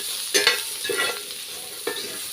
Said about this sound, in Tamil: முள்ளங்கியோட பச்சை வாசனை போகிற நல்லா எண்ணெயிலே வதக்கிக்கலாம்